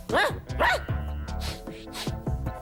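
A human voice imitates a dog, giving a quick series of sharp barks and yips, close and loud, several in a row.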